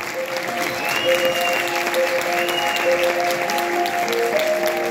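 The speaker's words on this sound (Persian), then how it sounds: "تشویقش کنید مهدی" An audience applauds for Mehdi Habb Darvish, a Guinness-record football freestyler, in a sustained burst of clapping from a crowd, steady throughout, with tonal music lines audible underneath.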